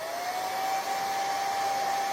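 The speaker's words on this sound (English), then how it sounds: "I am going to touch it with the blow dryer really quick," A blow dryer runs steadily and close by, a continuous airy whine with a tonal hum, used briefly to dry a DIY craft decor piece; no talking.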